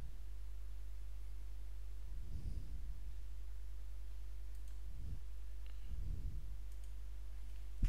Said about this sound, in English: I click on the wrong button.